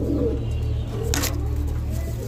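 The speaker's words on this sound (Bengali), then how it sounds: "এটা হচ্ছে আপনার অ্যান্ডালুসিয়ান কালারের শৌখিন কবুতরের একটা সিঙ্গেল নট।" A fancy pigeon of Andalusian colouring coos softly near the microphone, low murmuring notes over a steady hum of background noise, with one brief sharp rustle partway through.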